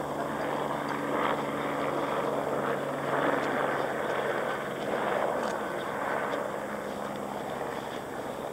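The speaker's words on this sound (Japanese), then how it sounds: "そこで今ヘリコプターを呼んでレスキューをしてもらっているところです" A rescue helicopter on Manaslu drones steadily at moderate distance, its rotor thumping in a continuous wash of engine noise that swells slightly and recedes, with no talking.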